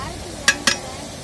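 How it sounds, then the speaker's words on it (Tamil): Tomatoes sauté in oil for chicken dum biryani, with a steady sizzle underneath and two quick sharp scrapes of a spoon against the pan. "நல்லா எண்ணெய் பிரிஞ்சு வர வரையிலும் நல்லா வதக்கிக்கிட்டே இருங்க"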